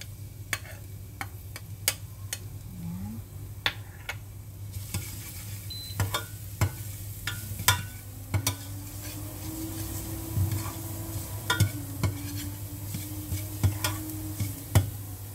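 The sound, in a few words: garlic sizzling in hot oil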